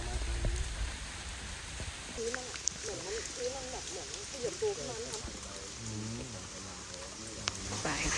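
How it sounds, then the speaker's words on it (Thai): Steady rain falling during a rainy-season trip in Bueng Kan, a faint continuous hiss with occasional drops, while voices talk over it. "ตอนนี้เพราะว่าฝนตกตลอดเวลา"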